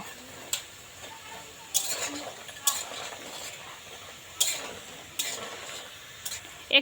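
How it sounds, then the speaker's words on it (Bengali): Maida biscuit dough for madan kotkoti fries in hot oil with a soft, continuous sizzle, punctuated by several sharp clicks and scrapes as the pieces are gently turned over in the pan. "এবার কিন্তু হালকা হাতে এটা উল্টে পাল্টে একদম লালচে করে ভাজা লাগবে"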